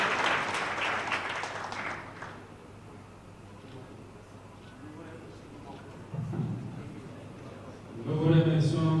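An audience at a political event in Congo claps in a dense burst at the start, then the applause fades into murmur and a voice speaks over quieter crowd noise toward the end.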